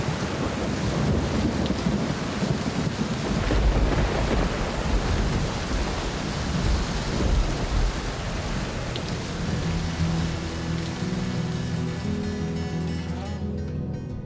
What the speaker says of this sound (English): a huge storm rolls in, and monsoon-like rains force us off the water